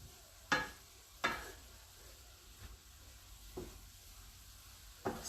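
A veggie stir fry sizzles in a pan, giving a soft steady hiss with a few louder stirring scrapes that come at irregular intervals.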